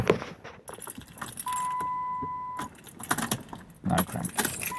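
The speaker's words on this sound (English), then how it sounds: "Turn in the key" Key jangling and turning in the ignition of a 1999 Chrysler Grand Voyager with an alarm-set fault: close metallic key rattles and clicks, then a steady electronic chime tone, with no engine crank.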